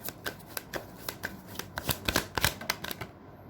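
Tarot cards are shuffled and drawn during a Leo reading: a quick run of crisp paper riffles and snaps, close and fairly loud, with irregular flicks that thin out near the end.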